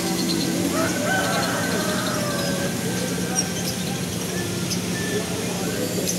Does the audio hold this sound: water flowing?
no